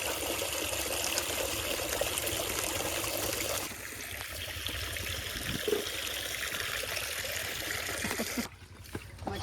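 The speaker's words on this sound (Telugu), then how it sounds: "మట్టి అంతా పోయిదా శుభ్రంగా కడుక్కోవాలి." Mushrooms covered in black cotton soil are washed by hand in water, a steady close trickle and splashing with soft rustling throughout, dropping briefly near the end.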